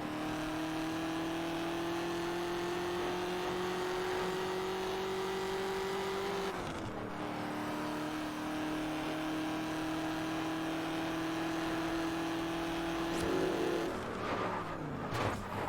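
Ford GT engine in the driving game Test Drive Unlimited holds a steady high drone at speed, then drops pitch with a gear change and holds again, near and loud, with no talking.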